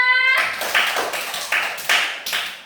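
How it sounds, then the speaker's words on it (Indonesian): Children in a classroom break into a short round of clapping, several rhythmic bursts of claps close by, with no talking over them. "Beri tepuk tangan untuk Mia"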